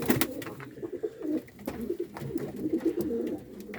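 Several pigeons coo close by, soft throaty rolling calls overlapping in a continuous murmur with occasional wing flutters and rustling.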